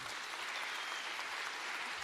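Crowd at the Jungle War XI 2023 event claps in a faint, distant, even wash of applause that holds steady throughout.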